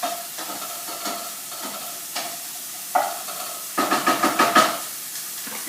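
Onions are stirred in a cooking pot with a faint sizzle, the spoon scraping and knocking in scattered strokes that turn into a quicker run of rhythmic scrapes partway through.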